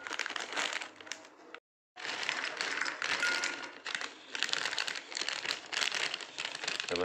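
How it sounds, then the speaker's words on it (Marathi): Crinkling plastic packet being handled as dry soya chunks are taken out, a steady close rustle with one brief pause midway. "या पाकिटात मी काढून घेतो."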